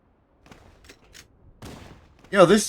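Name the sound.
gunfire from Warthog vehicle gun in Cursed Halo video game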